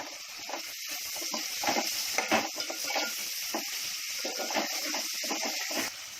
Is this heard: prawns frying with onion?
yes